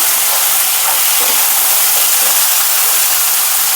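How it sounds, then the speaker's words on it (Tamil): Ripe tomatoes sauté for a chutney with a loud, constant, close hiss and sizzle that holds steady without pause. "அதையும் போட்டு தக்காளி நல்லா வதங்குற அளவுக்கு வதக்கி விட்டுடலாம்."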